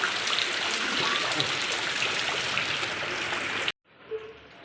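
Rainwater pours and flows through a flooded house, a steady rushing wash that cuts off abruptly near the end, leaving a faint quieter background.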